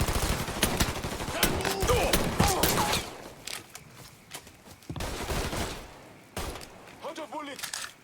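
Rapid bursts of automatic gunfire in the Mafia III video game, loud and close, with sustained volleys broken by short pauses and someone shouting over them.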